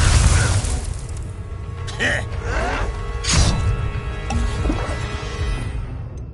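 A Confringo fire spell bursts in Hogwarts Legacy with a loud, sustained booming roar and several sharp impacts, while a voice speaks over the blasts.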